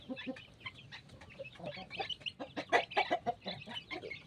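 Hens cluck repeatedly in short, uneven bursts close by, with overlapping calls and no talking.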